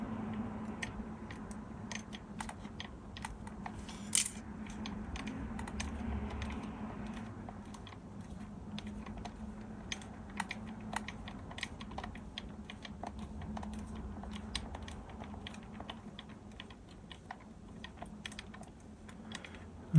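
A small screw is driven in from the back of a RoboCop model kit, a string of faint, quick ticks and clicks from the screwdriver over a quiet background hum, with no talking.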